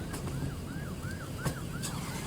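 A police car siren wails in repeated rising and falling sweeps, about five quick cycles in a row, fairly faint and distant outside a bank in Galveston, with a few sharp clicks over low rumbling background noise.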